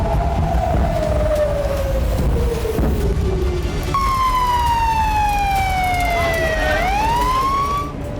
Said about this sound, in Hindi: इजराइल में लगातार सायरन बज रहा है